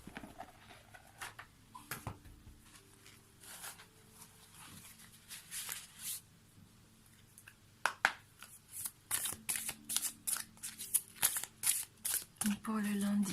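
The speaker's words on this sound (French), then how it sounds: "on va prendre une carte issue de l'oracle des chakras." A deck of chakra oracle cards is shuffled by hand, giving soft papery riffles and flicks that come in quick bursts and grow busier toward the end, close and fairly quiet.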